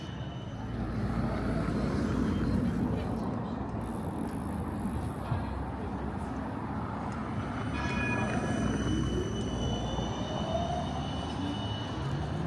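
Amsterdam's Tram 2 rolling through the city, a steady loud rumble of wheels on rails with rising and falling motor whine and faint squeals over continuous cabin noise, no speech.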